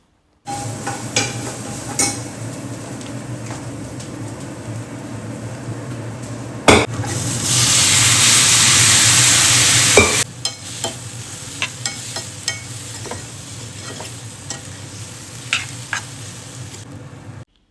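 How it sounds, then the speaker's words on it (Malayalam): Green beans stir-fried in a pan for payar upperi: a loud burst of sizzling in the middle, framed by repeated metal spatula scrapes and taps against the pan. "ഇതേ ഞാൻ പയർ ഉപ്പേരി ഉണ്ടാക്കാൻ വേണ്ടിയിട്ടൊക്കെ റെഡിയാക്കുവാണേ"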